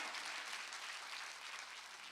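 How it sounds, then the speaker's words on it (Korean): Steady, continuous hand clapping from a congregation at a Sunday worship service, a dense wash of many palms filling the room at moderate distance, with no speech over it. "박수 치라 이게야."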